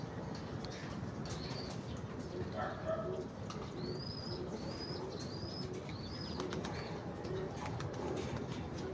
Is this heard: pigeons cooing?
yes